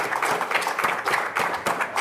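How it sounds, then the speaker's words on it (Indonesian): Studio audience applause for a guest named Arafah on a comedy talk show, a steady dense patter of many hands clapping with no voices over it. "Tepuk tangan dulu buat Arafah."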